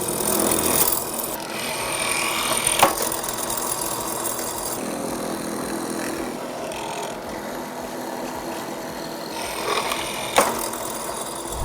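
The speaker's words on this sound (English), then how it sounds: "I'm going to use the drill press to create a series of overlapping square holes" A drill press bores a series of overlapping square mortise holes in wood, giving a steady mid-level machine whir broken by a few sharp knocks and bursts of cutting as the bit plunges. No one speaks.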